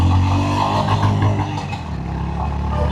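A Honda CB 350 RS motorcycle ridden in third gear, its engine a loud, steady low rumble with constant wind and road noise, close up and continuous.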